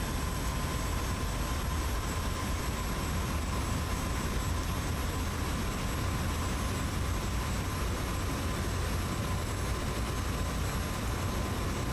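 An F-86 jet in the DCS flight simulator roars in a dogfight against an F-5. The engine noise is a dense, constant broadband rush with a faint steady tone, and no speech is heard.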